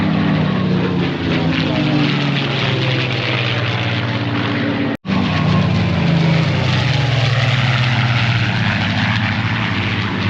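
A P-51 Mustang with a Packard-built Merlin engine flies at the Cessnock air show, giving a loud, steady propeller drone with a slow pitch shift. It cuts out briefly midway and then resumes.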